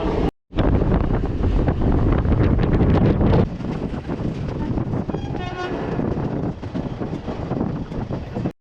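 The Teesta Torsa Express passenger train rumbles along loudly and continuously toward Katwa Junction, with heavy wind buffeting the microphone and wheels clattering over the tracks.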